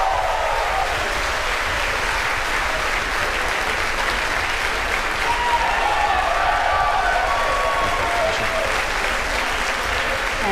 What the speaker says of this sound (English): as you can hear by the applause and see on your screen, we've had a successful stage separation